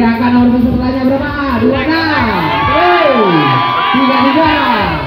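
A crowd at a junior men's fitness bodybuilding contest cheers and shouts loudly in a close, continuous wave of whoops and rising and falling yells.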